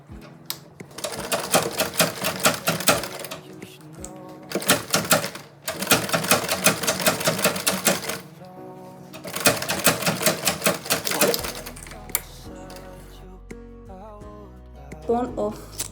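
Sewing machine running in rapid bursts while top stitching a tote bag made of Ankara fabric, three long fast stitching runs separated by short pauses, close and loud, followed by quieter handling noises.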